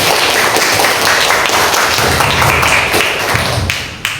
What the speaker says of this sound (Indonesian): Mari kita beri aplaus untuk kelompok